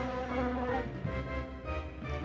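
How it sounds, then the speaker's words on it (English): Insect buzzing from Castlevania: Symphony of the Night, a steady droning hum with fluttering tones that holds without a break and stands alone. "What the? Are those bees?"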